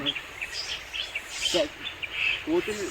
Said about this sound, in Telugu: ఇట్లా పక్షులు పక్షులు అరుస్తున్నాయి